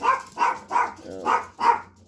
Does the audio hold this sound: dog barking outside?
yes